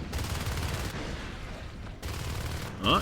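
Sustained rapid gunfire in a tunnel during a competitive video game match, a steady stream of shots that breaks off briefly twice, ending with a short electronic tone.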